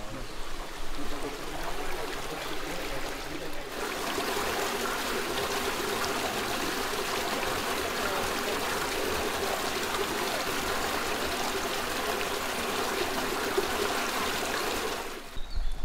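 Water flows steadily through a cave, a loud, continuous rushing and trickling stream heard close for over ten seconds, with quieter moments at the start and end.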